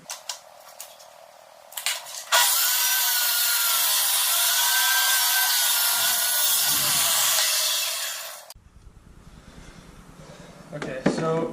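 A table saw makes a 45-degree bevel cut through wood, a loud, steady whine and rasp lasting about six seconds. Quieter handling noises come before and after it.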